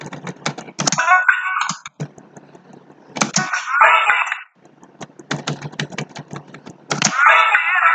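Computer keyboard arrow keys pressed repeatedly to step through video frames, heard as bursts of sharp close clicks alternating with someone speaking.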